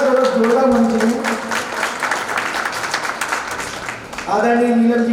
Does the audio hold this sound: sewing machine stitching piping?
no